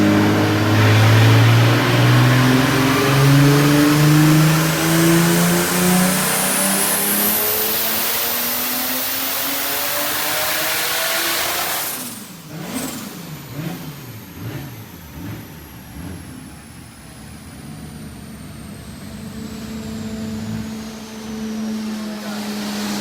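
A turbocharged E36 BMW drift car's engine screams through a long rising pull on a Dynojet dyno, cuts off abruptly, then burbles and wavers unevenly as it settles back down, loud and close.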